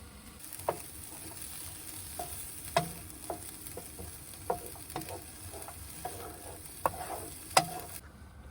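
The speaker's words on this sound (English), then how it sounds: "we're going to soften the onions a bit" Onions softening in a RidgeMonkey pan, giving a soft, steady sizzle with occasional light taps and scrapes of a utensil, close but fairly quiet, with no talking.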